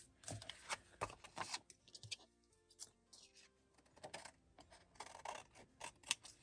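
Scissors snip through specialty label paper in a series of crisp, close cuts, some quick and clustered, with a short pause and a faint rustle of paper between runs.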